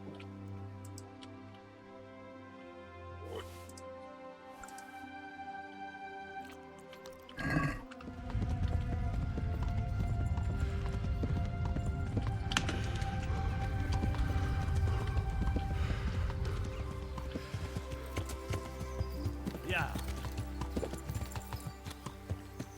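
Rapid rhythmic hoofbeats of a galloping horse in Kingdom Come: Deliverance start abruptly and carry on steadily, layered over game music and effects, with no voices.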